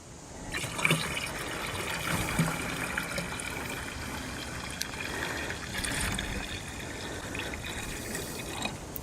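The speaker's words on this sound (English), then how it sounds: "now we've got some salt water mixed up and we're going to top this off." Salt water poured into a gallon jug already holding vinegar, filling it to the top, with a steady trickling, gurgling flow that rises and falls through the fill, fairly quiet and alone.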